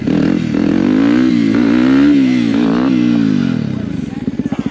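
A motorcycle engine revs loud and close on a first wheelie ride, its note swelling and easing in long pulls before breaking into a choppy, pulsing rhythm at the end.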